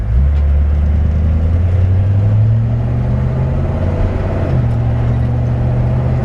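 A 1951 Ford F1 pickup with a 302 V8 and automatic transmission drives along, its low engine drone steady and loud throughout, with a brief shift in pitch near the end and no talking.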